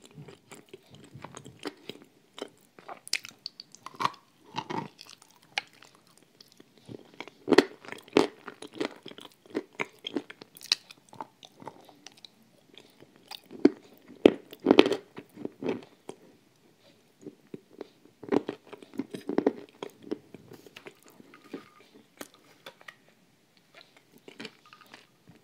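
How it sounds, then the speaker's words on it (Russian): Blue Uzbek clay is bitten and chewed close to the mic, giving irregular sharp crunches and wet chewing sounds in quick bursts, with quiet pauses between them and no talking. "Простите, но не чавкать невозможно."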